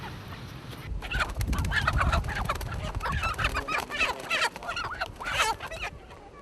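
Chickens cluck and squawk loudly and close by at a Cambodian rural village sale, where a motorbike peddler trades live chickens; a dense, busy burst of clucking builds, breaks and returns in flurries with no talk.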